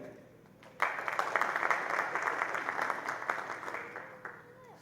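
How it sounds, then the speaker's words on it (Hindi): After a brief quiet moment, an audience at a spiritual retreat camp in Gujarat bursts into clapping that carries on evenly for about four seconds, slightly uneven and crowd-sized, before tapering. "तालियां बजाएं।"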